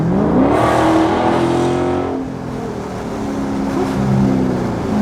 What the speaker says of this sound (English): you don't have to speed in these cars to really make these cars growl, especially when you got these muffler deletes